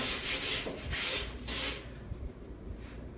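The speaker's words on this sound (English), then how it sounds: "So I'm rubbing it with this and rubbing it off with the clean area." Cloth rubbing over chalk paint on a furniture surface during a blending technique, a soft close scrubbing in several back-and-forth strokes that fade toward the end, with no talk.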